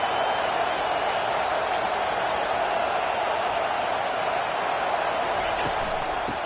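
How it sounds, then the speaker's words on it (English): A steady, dense roar of a stadium crowd cheering at a college football game between downs in a Madden video game, loud and continuous throughout with no clear breaks. "this crowd is turning it up a notch"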